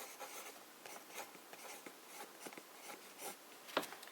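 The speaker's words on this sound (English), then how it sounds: "Now if I were to use just a broad nib, I can see the feathering with the broad nib a little bit." Broad-nib fountain pen writing turquoise ink on paper, faint close scratchy strokes coming in short irregular bursts, with one sharper tick near the end and no voices.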